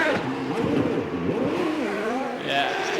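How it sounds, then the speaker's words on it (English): 2007 ChampCar race car at the Surfers Paradise street circuit, its engine revving up and down in loud rising and falling whines, with a commentator talking over it. "So he's kept the engine running, has Graham Rahal"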